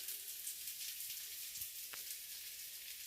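Cumin seeds sizzle in hot oil in a kadai, a soft, steady hiss that runs faintly throughout, with a quiet tick or two.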